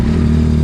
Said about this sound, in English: after hearing that hideous stock exhaust, I'm gonna go ahead and bless you guys' ears with this Yoshi one